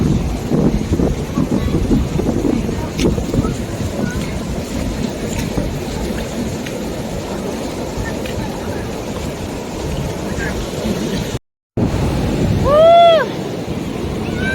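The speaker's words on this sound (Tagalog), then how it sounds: "doon kasi medyo malakas yung alon" Strong ocean waves roll onto a beach at a Malaysian coastal resort, giving a steady loud wash and roar with wind buffeting the microphone throughout. A short dropout comes near the end, then a brief whistle-like sound.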